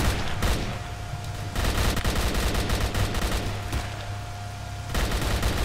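Allied fighters fire sustained automatic bursts in S.T.A.L.K.E.R. Call of Pripyat, loud and continuous rattling volleys with brief dips, dense and near, and no talking over the fire.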